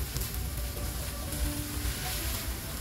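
Shredded cabbage hitting a hot pan with spring onion and chicken powder for vegetable lumpia filling, a faint steady sizzle and crackle throughout, no voices.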